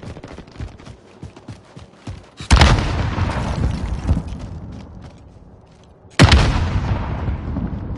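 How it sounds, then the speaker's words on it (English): Two loud, heavy blasts from grenade launcher explosions in Call of Duty Warzone, each a sudden broadband boom with a long rumbling decay, preceded by softer scattered thuds and footsteps. "I think he's using a grenade launcher."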